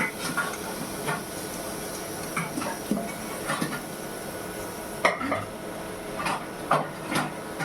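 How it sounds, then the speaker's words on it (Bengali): Metal scraping and clinking as skin is stirred in a hot pan without oil, irregular stirring strokes with a few sharper knocks, close by and fairly quiet. "ওটা লাড়িয়া দিমু, লাড়িয়া দিয়া একটু জলটা শুকাইলাম"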